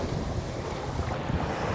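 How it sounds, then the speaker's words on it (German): Wind blows on a sailboat near Antigua at about eight to nine knots, a loud steady roar of gusts against the microphone mixed with the rush of waves. "Wir haben so ungefähr 8, 9 Knoten Wind."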